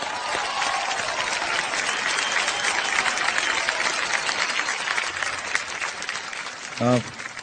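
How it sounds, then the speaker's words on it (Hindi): Loud applause from a studio audience on a Hindi comedy chat show, cheering for lyricist Javed Akhtar; dense, continuous clapping that fills the clip, with a brief voice or tonal sound near the end. "जावेद साहब के लिए एक बार जोरदार तालियां हो जाएं"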